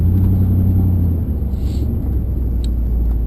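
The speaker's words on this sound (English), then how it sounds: "I'm parking up here with the truck" A truck engine rumbles steadily while parking, a loud low droning idle that stays close and constant throughout with no speech.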